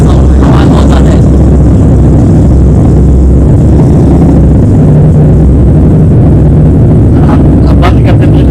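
An Indian motorcycle engine runs very loudly right beside the listener, a rough, saturated roar that never drops, while people talk over it.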